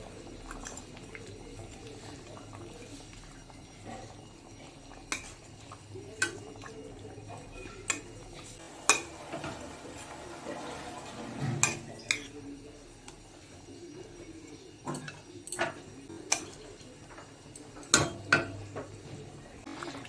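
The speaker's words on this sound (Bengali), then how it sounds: "এখন ঝোলটা ফুটে গেছে, এবার ভেজে রাখা মাছগুলো দিয়ে দেবো।" Fried koi fish slipping into a pot of simmering spicy Bengali curry, with a low bubbling boil underneath and scattered sharp clinks and taps of a utensil against the pot.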